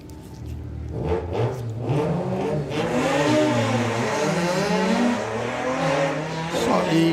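VW Mark II Golf drag racing at Bug Jam qualifying, engine revving loud and steady through the gears as it pulls away, the pitch climbing and shifting repeatedly, with a brief higher whine near the end.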